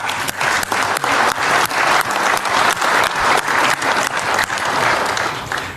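An audience applauds after a speech, a loud, close burst of clapping that swells in rhythmic waves and keeps going without pause.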